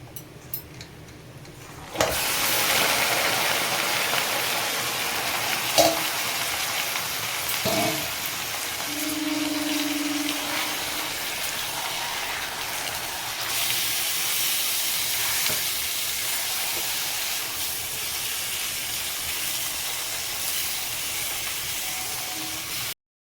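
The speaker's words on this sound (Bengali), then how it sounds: "বেরেস্তার সাথে চিকেনটাকে ভালো মতো করে ভেজে নেবো" Marinated chicken tipped into a pan of fried onions (beresta) to fry: a loud, hissing sizzle bursts in after a quieter opening and then holds steady to the end, with no talk.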